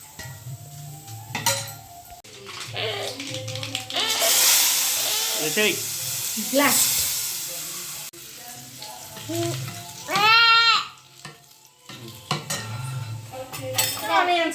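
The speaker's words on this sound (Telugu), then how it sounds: "ఇంక ఇందులో పోస్తున్నా మళ్ళీ తాలింపు వేయాలి" Tempering sizzles and hisses in a hot pan for curd vada, with clinks of utensils against cookware; people talk over parts of the cooking at close range.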